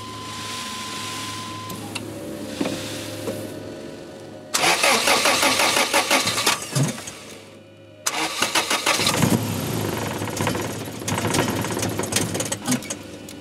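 A 3S-GE BEAMS swapped Toyota TE72 is cranked repeatedly. Loud bursts of starter whirring and engine sputtering come close up, with pauses between attempts.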